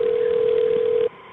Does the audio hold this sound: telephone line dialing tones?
yes